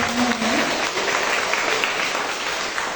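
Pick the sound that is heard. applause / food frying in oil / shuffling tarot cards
applause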